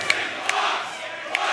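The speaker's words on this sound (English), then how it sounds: "And the crowd begging to know what's in that box." A wrestling arena crowd at a tables, ladders and boxes tag-title match shouts and chants in a steady, reverberant roar, with a few sharp individual yells cutting through.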